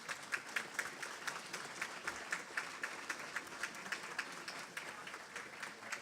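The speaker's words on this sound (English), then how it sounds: "Please give a round of applause for Minister Michelle Sampson" A crowd at an outdoor ferry announcement giving a round of applause for Minister Michelle Sampson, with steady, fairly faint clapping from many people for several seconds.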